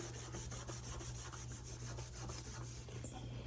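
An old wiping cloth is worked back and forth between the grimy freewheel cogs of a 1974 Schwinn Lady Suburban bicycle, giving a steady, close rubbing rasp with a low constant hum underneath.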